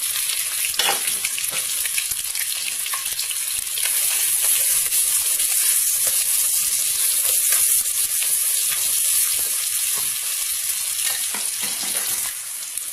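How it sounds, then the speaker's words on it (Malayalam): Sliced onions dropped into hot oil with whole spices for Palakkad biryani, a loud, dense and continuous frying hiss that stays close and steady throughout, with no voices over it. "നല്ല ചൂടാക്കേണ്ട ഇതിലേക്ക് നമുക്ക് സവാള ഇട്ട് കൊടുക്കാം"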